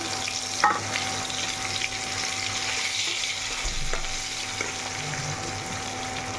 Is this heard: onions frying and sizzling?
yes